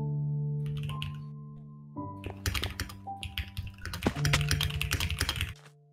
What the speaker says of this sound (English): Stop typing.